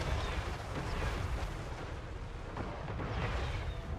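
Empire artillery firing on dwarves in a fantasy battle video game produces a dense, continuous rumble of distant booms and bursts layered into a steady roar, without talk.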